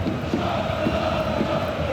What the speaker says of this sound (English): You can hear the annoyance in the crowd